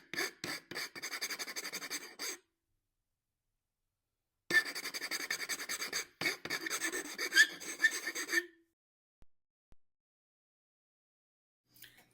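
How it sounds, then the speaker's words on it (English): A hand file rasps across the wood of a plane till in short, quick strokes: a burst of scraping, a pause, then another run of strokes, close and fairly quiet, with no talking. "One side of the file is flat and the other side is rounded, and it's really versatile."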